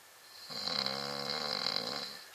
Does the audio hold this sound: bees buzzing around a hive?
no